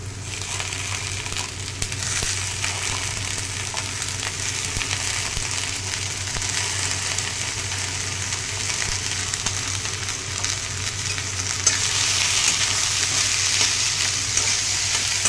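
Diced potato, beans, carrot, peas, green chilli, ginger and onion fry hard in oil in a wok, a steady, loud sizzle with stirring scrapes running the whole time and brightening near the end, no voices.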